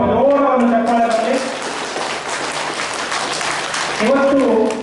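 Applause from an audience welcoming a speaker at an event, a steady mass of clapping lasting a few seconds, framed by someone talking into a microphone at the start and end.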